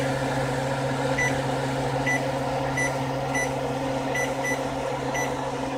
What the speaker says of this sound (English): setting the timer again for 45 minutes